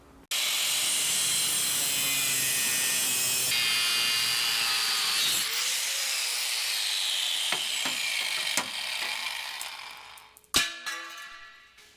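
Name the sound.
power tool cutting out lower portion of Jeep bumper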